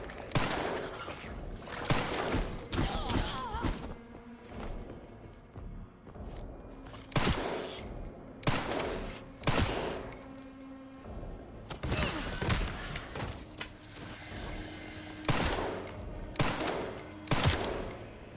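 Gunfire in the survival horror video game Resident Evil Requiem: a series of loud, sharp shots in irregular bursts, some rapid and close together, with heavy thuds and ambient game noise between them.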